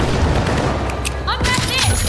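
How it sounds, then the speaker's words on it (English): Frag grenade blast and rapid gunfire in the video game The Finals, dense bursts of shots and booms with sharp chirping effects layered over someone speaking. "Frag grenade out."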